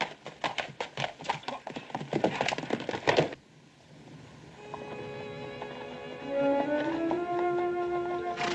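Horse hooves clatter in a fast, loud, close rhythm for about three seconds, then fade away beneath swelling dramatic orchestral music from a classic television western.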